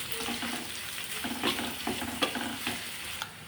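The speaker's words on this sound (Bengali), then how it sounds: "এই পেঁয়াজ কুচিটা দিয়ে দিলাম, দিয়ে একটু নেড়ে দিচ্ছি।" Chopped onion with chilli sizzles in hot oil, a soft steady frying hiss broken by repeated scraping strokes of a spoon as it is stirred close by.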